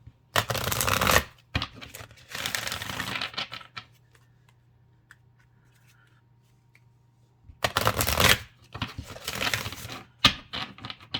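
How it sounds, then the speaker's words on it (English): Tarot cards being shuffled in two long riffling bursts, a close, dense papery rattle, separated by a quiet stretch and followed by shorter shuffles. "Why are you shuffling like this? And I'm like, because I shuffle until I'm called not to shuffle."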